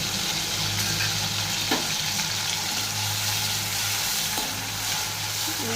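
Soaked dried prawns fry in plenty of hot oil in a wok for prawn gongura, giving a dense, loud, unbroken sizzle close by, with a couple of soft stirring knocks and no voices.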